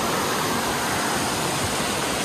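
A steady, even rush of brook water flows at Jacob's Brook on the Appalachian Trail in New Hampshire, filling the whole stretch as continuous broadband noise with no voices over it.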